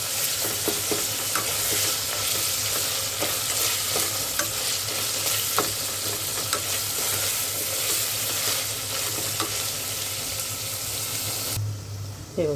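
Chopped onions frying with ginger-garlic paste in a pan, a steady close sizzle with repeated spoon scrapes and stirring clicks throughout, cutting off abruptly near the end.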